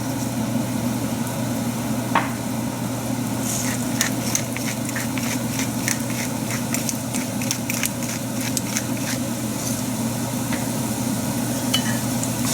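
Mirepoix sweating in olive oil in a pan: a steady low sizzle and hiss with a series of light crackles and utensil taps scattered through the middle, close and even.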